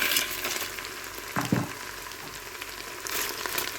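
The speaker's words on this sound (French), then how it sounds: "J'ajoute les tagliatelles." Tagliatelle added to a Cookeo multicooker after browning, heard as a soft continuous sizzle with a couple of brief clatters as the pasta drops in, fairly close and alone.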